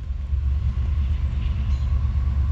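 A Norfolk Southern ES44AC heritage locomotive leads a long eastbound freight train past, giving a steady, loud, low rumble of wheels and engine up close with no break.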